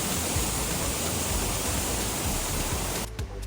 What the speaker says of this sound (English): So here, we are at the base of the waterfall